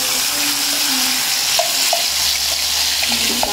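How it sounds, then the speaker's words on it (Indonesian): Spice paste sautéing in a hot pan for a chicken dish, a bright, continuous sizzle with faint scraping stir clicks, close and steady with no talking. "Kita gongsol bumbunya dulu sampai wangi ya"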